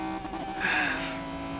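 Race cars in the McLaren F1 GT racing game, one sliding sideways, cross the finish line at the Nurburg GP circuit with a steady engine drone and a brief rising tire squeal in the middle of the clip.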